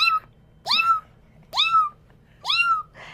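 A person imitates a kitten's meow to draw a mother cat closer: three rising, nasal mews at a steady, evenly spaced pace, close and fairly loud, with faint low rumble behind.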